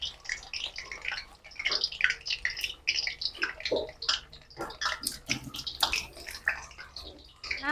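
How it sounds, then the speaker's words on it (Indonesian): Freshly cut eggplant pieces fry in hot oil in a home kitchen, giving a close, steady crackling sizzle with irregular pops throughout and no talk. "yang tadi Bunda potong-potong langsung Bunda goreng"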